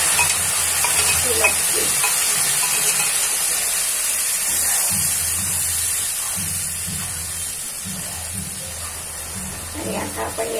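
Liquid poured into a pan of roasted spices for a curry gravy, a steady loud sizzle and hiss running throughout, with occasional stirring and a voice speaking briefly over it.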